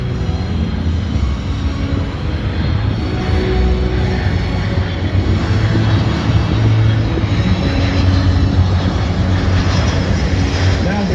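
A C-17 military transport aircraft flying a full-flap approach at an air force base airshow, producing a steady, loud, broad engine roar that holds for the whole stretch with crowd noise mixed in.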